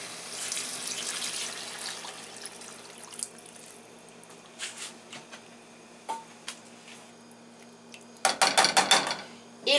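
Water poured into a soup pot while making a vegetable soup, a steady wash of running liquid through most of the stretch, close and moderately loud, with a few clinks of utensils and a louder burst of pot-and-dish clatter near the end.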